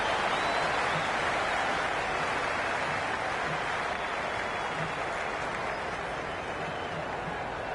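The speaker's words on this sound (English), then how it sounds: "It's evident and ever so audible that the crowd is at near bursting point at today's play" A stadium crowd at a cricket match between Jeddah Lions and Multan Sultans roars in a continuous, broad wash of cheering and clapping, steady and distant-sounding throughout.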